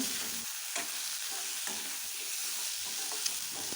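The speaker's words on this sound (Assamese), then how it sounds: "এইখিনি টেঙা দি দিলোঁ, বিলম্বী টেঙাখিনি ফালি ফালি দি দিছোঁ আৰু এইখিনি কিছু সময় ভাজিব লাগিব।" Onion, ginger, garlic and sliced bilimbi fry in a pan for a fish recipe, a steady close sizzle broken by repeated scraping stirs of a spoon against the pan, with no talking.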